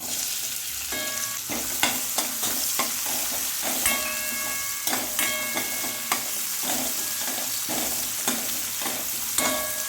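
Onion goes into a hot pan for a dhaba-style palak bhaji and sizzles steadily while a spoon stirs it with repeated scraping clinks, close up and without talk.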